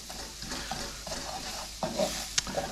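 Mushrooms cooking in butter in a pan give a soft sizzle with rhythmic stirring and scraping strokes and a small clink near the end, fairly quiet and close, with no speech.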